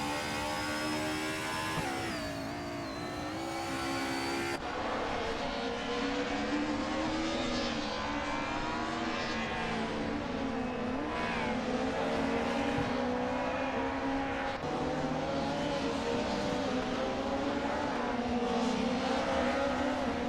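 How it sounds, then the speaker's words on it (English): Race car engines roar in a racing video game featuring a 1999 Peugeot 306 Maxi rally car, a continuous loud high-revving drone with shifting pitch and gear changes throughout. "Duff Dad is currently in 5th place, driving a 199 Peugeot 306 Maxi"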